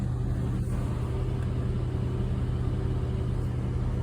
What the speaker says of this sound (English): Oh, now it's idling lower.